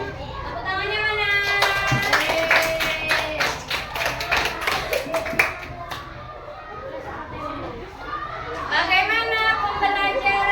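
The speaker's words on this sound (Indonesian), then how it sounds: "Tepuk tangannya mana?" Schoolchildren in a classroom break into rhythmic clapping and lively chatter, a burst of claps and voices with children's speech weaving through it.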